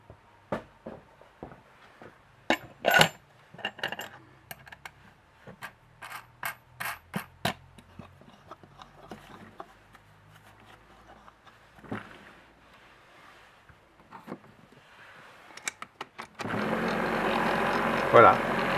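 A cleaning machine loaded with metal pistol cartridge cases, first a run of close metallic clicks and clatters as it is handled and shut, then a steady loud tumbling rumble starting near the end.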